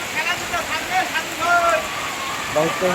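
Steady rain patters and hisses throughout, heard from under a shop awning, with faint voices and passing sounds mixed in underneath.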